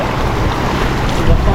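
Sea waves washing continuously, loud and close, a broad rushing roar mixed with wind buffeting the microphone, steady throughout with a slight swell near the end.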